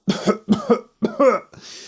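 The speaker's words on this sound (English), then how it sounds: "the witch started to cough" A person coughs several times in quick bursts, close and loud, ending with a rougher throat-clearing rasp.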